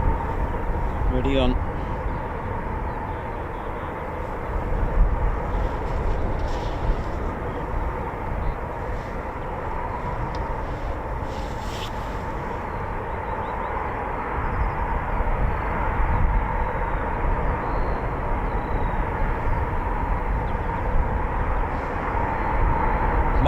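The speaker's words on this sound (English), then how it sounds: "So there are some more Typhoons I can hear already" Eurofighter Typhoon FGR4 jets around RAF Coningsby, a low, steady, distant jet rumble persisting throughout at moderate level as someone speaks over it.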